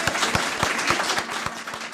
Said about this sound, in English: Can we get a round of applause for this great panel?